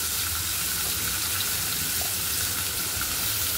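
Spices and masala roast in a pan for paneer tikka masala, a dense steady sizzle filling the clip, loud and close with no break.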